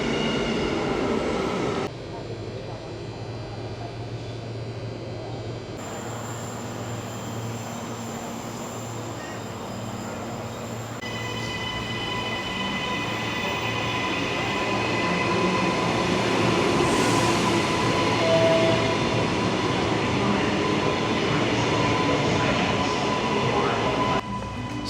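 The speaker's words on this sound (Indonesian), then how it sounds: "terus tunggu jadwal keberangkatan keretanya" A train on the platform to Gold Coast, with a steady rumble and hum building as it pulls away. It grows louder toward the end, with some faint talk in the background.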